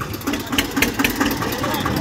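Eicher 242 tractor engine running with a steady low rhythmic chugging, close and fairly loud, with voices talking over it.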